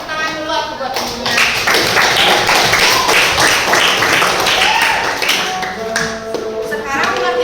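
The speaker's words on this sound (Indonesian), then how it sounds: "Tepuk tangan dulu aku buat temennya." A group claps hands together in a classroom, a dense burst of applause lasting several seconds, with a voice speaking just before and after.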